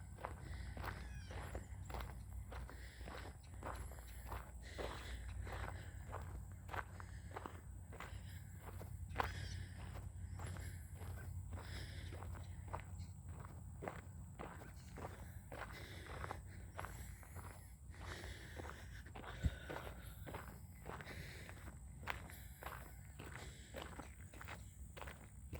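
Footsteps crunching on gravel during a walk around a large farm property, a steady rhythmic series of close, evenly spaced crunches continuing throughout with quiet outdoor ambience and no talk.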